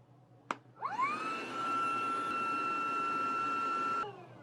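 Hyper Tough 20V brushless cordless vacuum switched to blower mode: a click, then a rising whine that settles into a steady, loud motor drone with a sharp tonal hum, running for about three seconds before cutting off and spinning down.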